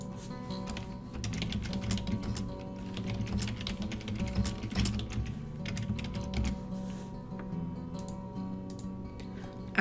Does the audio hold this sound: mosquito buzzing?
no